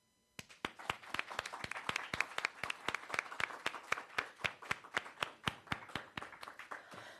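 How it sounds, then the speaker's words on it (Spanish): Audience applause welcomes poet Leticia Luna to a poetry reading, a steady run of close, crisp individual claps lasting several seconds before fading out. "Les pido que por favor la recibamos con un aplauso."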